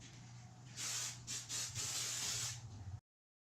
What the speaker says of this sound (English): I'm gonna spray. I use this repositional spray.